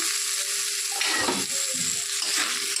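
Drumstick pieces and potatoes sizzle as they go into hot spice masala in a pan, a steady close frying hiss with brief stirring scrapes and no talk.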